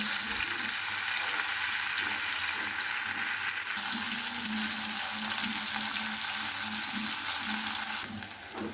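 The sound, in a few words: fish frying in hot oil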